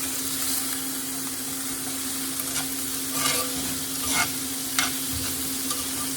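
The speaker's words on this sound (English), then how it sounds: "I'm just going to turn this over and give these onions a stir" Onions and shallots frying in a pan next to a steak, stirred now and then: a steady close sizzle under several short scraping stirs spread through the clip, with no talking.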